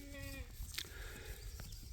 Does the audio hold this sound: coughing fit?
no